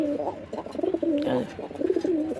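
A pigeon coos close by in repeated throaty, rolling phrases, fairly loud and continuous with short pauses between calls.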